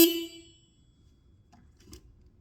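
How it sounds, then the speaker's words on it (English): Horn on a 1997 Suzuki GSX-R 1100 motorcycle, a single short beep up close that fades quickly, followed by a quiet background with faint clicks. "Horn works."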